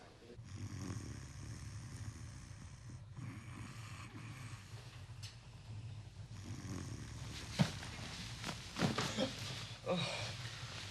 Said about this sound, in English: You were snoring.